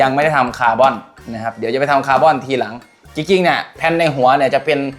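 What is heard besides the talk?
No distinct noise like a dog, phone or traffic.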